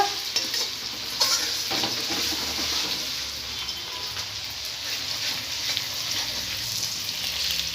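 Ginger garlic paste pops and sizzles in hot oil for chili chicken. It gives a steady, close frying hiss broken by sharp spattering pops and occasional stirring scrapes.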